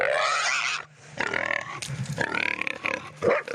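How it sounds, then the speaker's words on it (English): A young wild sow caught during a pig hunt at Mangatoi Station near Mokau, New Zealand grunts and squeals loudly and close up in a rough, continuous series, with a short pause early on. "It's just a young sow"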